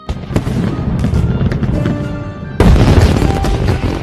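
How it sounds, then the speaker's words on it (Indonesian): Fireworks burst in a rapid crackling barrage, with a louder boom and heavier volley near the end, no voices. "Wang Duo menyalakan seluruh kembang api di kota itu"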